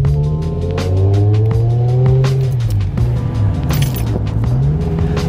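A BMW M6 with freshly fitted brake pads drives and slows, its engine droning and dipping in pitch, with a brief tire or brake squeal and clicks heard up close inside the car.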